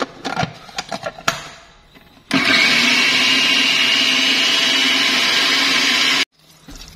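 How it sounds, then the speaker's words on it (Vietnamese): A blender purees tofu into a sauce, whirring loudly and steadily for about four seconds before stopping abruptly. A few clattering knocks come before it starts. "Mình cho đậu hũ và mình xay luôn nha,"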